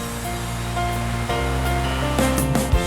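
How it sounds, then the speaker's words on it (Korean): A mountain valley stream in Jinan, North Jeolla, rushes steadily with a full, close, continuous wash of flowing water and no voices. "물소리마저 경쾌한 계곡과"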